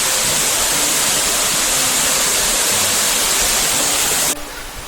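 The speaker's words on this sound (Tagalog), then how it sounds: "Batlag Falls, guys." Batlag Falls waterfall roars in a steady, loud, broadband rush of falling water with no voices, continuing without a break until it drops off sharply near the end.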